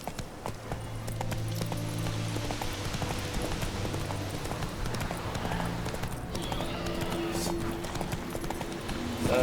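Steady clip-clop of horse hooves at a gallop in the video game The Witcher 3, continuous and fairly loud, with game music and effects layered underneath.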